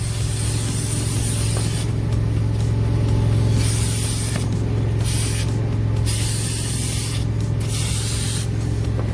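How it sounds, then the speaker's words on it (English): Cleaning spray hisses onto car seats in repeated bursts of varying length, loud and close over a steady low hum of machinery. "He's taking a spray and that's spraying it down."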